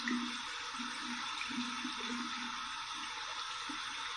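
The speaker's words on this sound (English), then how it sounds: "We're going to run this under some cold water." Cold tap water runs steadily over an alum block during shave prep, a continuous broadband rush with no voices over it.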